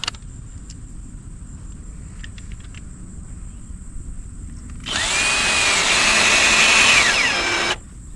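A cordless power drill drives a wood screw while building a pressure washing trailer, a single rising whine lasting about three seconds after quiet background hum and faint insect chirps.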